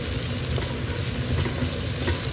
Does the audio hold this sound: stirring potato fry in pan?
yes